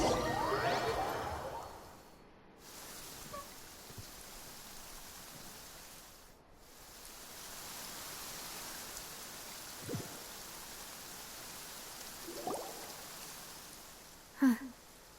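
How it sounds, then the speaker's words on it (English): Steady, moderate rainfall in the video game Genshin Impact hisses continuously, with a few faint soft taps and a brief chime near the end. "It's been raining non-stop for a few days now."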